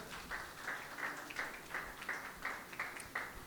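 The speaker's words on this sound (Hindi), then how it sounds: "यीशु मसीह के लिए जोरदार तालियां बजाएं।" Church congregation applauding during a Sunday service, a steady wash of many hands clapping at a moderate distance, continuous and fairly even for several seconds with no talk over it.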